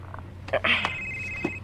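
A cellphone rings with a bright electronic tone that sustains for about a second, heard over a low steady background hum with a few scattered clicks and knocks around it.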